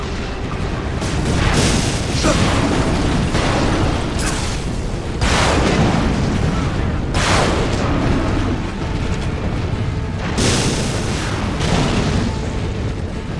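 Titan fireballs in the Resistance 2 game burst in heavy booming explosions amid a constant roar of battle, several loud blasts landing one after another over dense rumbling gunfire.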